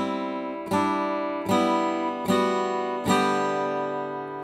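An acoustic-sounding guitar strums the bottom three strings together four times in a slow, even rhythm, each chord ringing out clearly and close with no talk.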